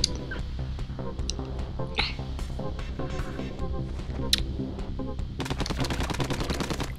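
The Hero Shot ink weapon in Splatoon 2 fires a rapid, steady string of shots over game music, and the shots get denser and sharper toward the end.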